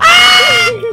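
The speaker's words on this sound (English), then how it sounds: "I think Black Queen has the best scream in the circle." A loud, sustained scream from a character in the Garry's Mod video game, a high strained cry that wavers and falls away near the end before a short second burst starts.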